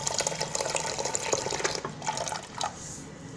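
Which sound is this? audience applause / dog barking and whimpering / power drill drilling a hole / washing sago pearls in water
washing sago pearls in water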